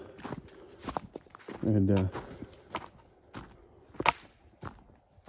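Footsteps crunch through leaf litter on a woodland walk in September, an irregular series of close steps with crickets chirping steadily in the background and a brief spoken word.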